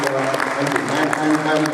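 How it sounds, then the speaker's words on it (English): Steady clapping from a crowd, dense and sustained throughout, with a busy hall-like wash behind it. "they deserve a big round of applause for that as well"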